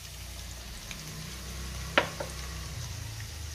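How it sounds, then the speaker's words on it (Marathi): Gram flour (besan) roasting in a pan with ginger-garlic paste gives a steady, even frying hiss, with a single sharp utensil clink near the middle. "बेसन हे आपण व्यवस्थित परतून घेऊया."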